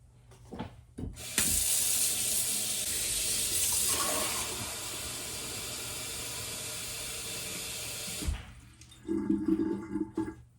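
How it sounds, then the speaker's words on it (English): Hot water pours steadily from a tap into a plastic Solo cup for several seconds, a loud hissing rush, then stops abruptly, followed by a few light clinks. "take our solo cup, fill it almost to the brim, just a little bit lower."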